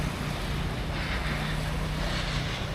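Out on the water in a small fishing boat, a constant loud wash of wind and waves fills the air with a faint low engine hum underneath.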